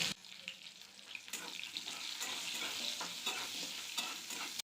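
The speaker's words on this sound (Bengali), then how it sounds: "তেল গরম হয়ে গেছে এবার আমি আলুগুলো দিয়ে দেব" Potatoes sizzle and crackle steadily in hot oil while being stirred with scraping sounds, continuous and close.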